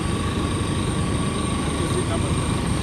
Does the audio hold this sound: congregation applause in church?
no